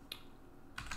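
Clicky computer keyboard typing during a live bug-bounty hacking session, a couple of short faint bursts of keystrokes in a quiet room, one brief tap near the start and a quick cluster near the end.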